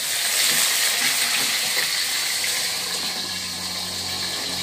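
Sambal of shallots, chili and tomato fries in hot oil with a loud, steady sizzling hiss that runs continuously and close up.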